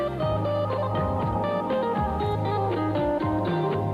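Jazz music heard over AM radio with a band-limited, muffled tone, playing steadily with bass and piano-like chords, no voices.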